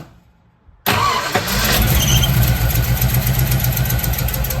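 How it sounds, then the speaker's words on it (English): A Ford Y-block 292/312 V8 with an Offenhauser triple two-barrel carburetor intake cranks briefly and fires up, then settles into a loud, steady, close idle with a throbbing rumble. "Well, that started up pretty quick."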